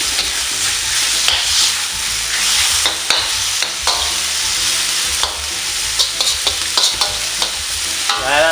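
Bean sprouts and mung beans sautéing in a pan, Filipino-style ginisang tauge: a steady close sizzle and frying hiss with scraping stirs and clinks of a utensil against the pan throughout.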